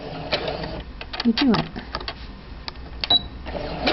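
A sewing machine back stitches fabric while sewing a French seam, its motor whirring in short runs under a person talking close by.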